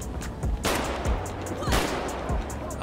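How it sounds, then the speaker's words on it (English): Repeated gunshots in GTA 5 on LA streets, loud close cracks and bursts arriving every half second or so over a continuous noisy game background. "We took a couple shots."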